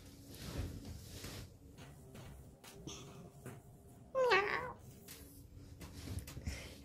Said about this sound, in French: J'ai des petits chats.